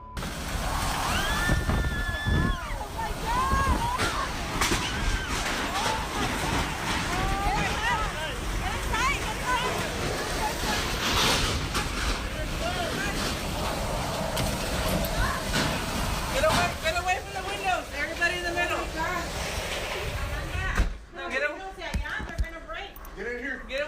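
Violent Texas storm with wind and heavy rain during flooding, heard from a home patio as a continuous broadband roar of gusts and downpour, with people talking close by over it.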